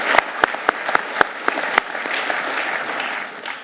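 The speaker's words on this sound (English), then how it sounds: "Maybe we can applaud him" Audience at a school senior prize-giving applauding a scholarship recipient, starting with several loud distinct claps and settling into a steady dense round of clapping.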